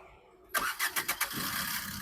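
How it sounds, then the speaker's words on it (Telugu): A 2016 Maruti Suzuki Brezza VDI diesel engine starts from a quiet moment: a sharp onset, a few rhythmic cranking pulses, then a steady close idle. "సింగిల్ సెల్ఫ్లో బండి స్టార్ట్ ఉంది"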